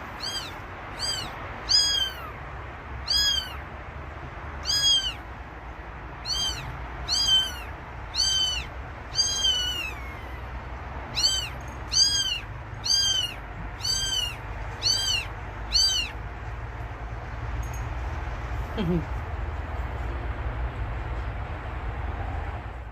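Kittens and their mother cat meowing indoors: a long series of high, thin, repeated meows in uneven bursts, close and fairly clear over a steady low background hum, without any talking.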